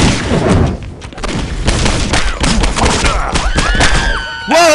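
A Molotov cocktail bursts into fire in Postal 2, loud booming thuds and crackling blasts in rapid succession, followed by rising whooshing tones near the end, all close and dominant with little talk.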